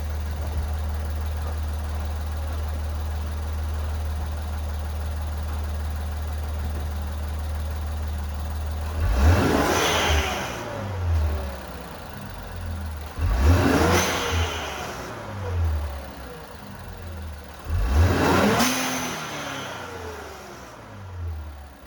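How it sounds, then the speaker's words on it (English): An Infiniti Q50/Q60 fitted with an HKS blow-off valve idles with a low rumble, then revs three times, each rise ending in a sharp airy release, heard close outdoors with no voices. "that's how the HKS blow-off valve sound"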